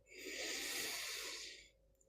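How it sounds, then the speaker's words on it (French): One long, deep breath during a Kundalini yoga session, a close, loud airy rush that swells and fades over about a second and a half before the room goes quiet. "Inspirez profondément. Expirez profondément."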